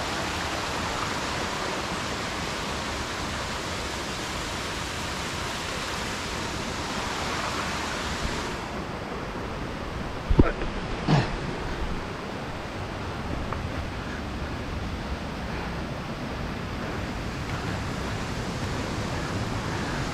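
Clear, abundant river water rushes in a broad, continuous roar, with a brief nearer splash or knock partway through against the constant flow.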